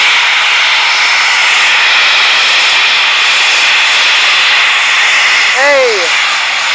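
A military jet taxis at RAF Coningsby with a loud, steady, close engine roar and hiss throughout, and a brief voice calls out over it near the end.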